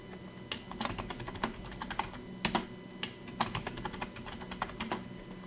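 Keystrokes on a computer keyboard while a password is entered during a CentOS 7 server setup, a quiet, close stream of irregular clicks in bursts with brief pauses, no voices.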